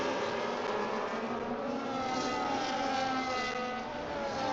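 Formula 1 cars, Red Bull and Ferrari among them, roaring off at a race start in Miami, a dense, continuous engine blare held loud and steady throughout, with no voices.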